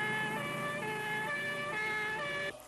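An ambulance siren wails in a steady, loud, tonal cry that shifts pitch in steps, then cuts off abruptly near the end.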